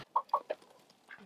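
Hens in a homestead flock that includes roosters give several short, close clucks in a quick irregular series, each brief and distinct against a quiet background.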